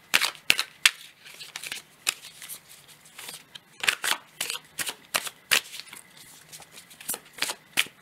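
Cards from a deck being shuffled and drawn, heard as a series of close, sharp riffling snaps and flicks in irregular bursts, with quiet pauses between them.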